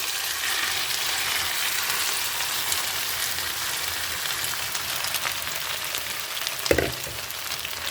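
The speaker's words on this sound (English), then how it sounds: "I'm just going to put this meat in there, and we can start frying it" Steady, dense sizzling of pork frying in hot oil, close and continuous, with a brief louder clatter near the end.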